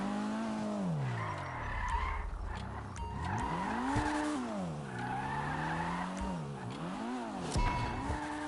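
A car in Grand Theft Auto Online skids and spins out, tires squealing in long sliding, rising and falling tones over steady engine drone, continuous and loud.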